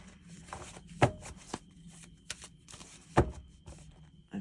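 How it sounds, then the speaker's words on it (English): A tarot card deck being shuffled once, close by and quiet, with a couple of soft riffling bursts and light card taps in an otherwise calm room. "Shuffle one time."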